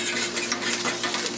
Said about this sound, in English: Once your water is boiling, you're gonna stir it with a fork.